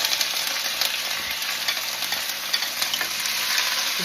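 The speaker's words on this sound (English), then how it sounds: "the pan is hot and the oil is sizzling" Tofu frying in hot oil in a hot pan, giving a steady, close, broadband sizzle with faint crackles and occasional stirring sounds throughout, with no talking.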